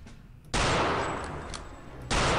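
Gunfire in the World War II shooter game Return to Castle Wolfenstein: two sharp bursts of loud shots, the first sustained for about a second and a half, the second starting abruptly near the end, over faint background noise.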